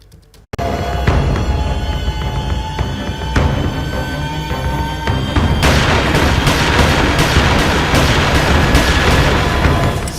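Rapid gunfire in a murder news report, dozens of shots in quick succession forming a dense, loud, continuous burst that grows heavier toward the end, with no talking.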